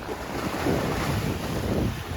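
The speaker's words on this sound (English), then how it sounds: "It's a bit windy and some bigger waves from time to time" Steady wind roars across the microphone while waves wash and rumble against a rocky shore, a continuous outdoor surf noise with no voices.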